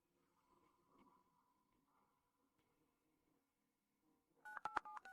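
A phone keypad dialing a number: a quick burst of several DTMF tones near the end, after a faint murmur in an otherwise quiet room.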